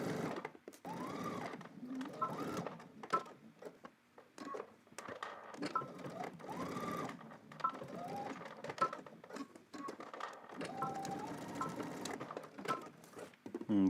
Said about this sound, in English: let's head to the machine and stitch this down